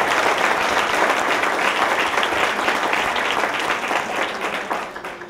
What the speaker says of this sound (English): How about applause for Dawn, because she really did a great job